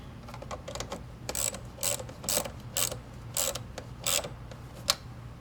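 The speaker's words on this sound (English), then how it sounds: "Now you tighten the lower bracket on the head." A 13 mm box wrench ratchets in short clicking bursts while tightening the lower bracket on the head during an intake install on a Ford F150, several quick clusters of mechanical clicks over a low steady hum.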